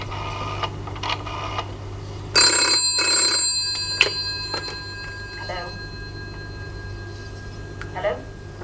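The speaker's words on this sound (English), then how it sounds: "I've got a telephone call coming in on that emergency number" A telephone on an emergency line rings in a 1975 television science-fiction series, with a few electronic chirping bursts followed by a sharp tone and quieter blips over a low hum.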